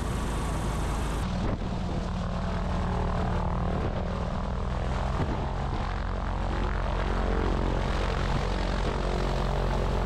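An amphibious propeller plane lands at Portland, its engine and propeller droning loud and steady from inside the cabin, with a shift in pitch as power changes on touchdown.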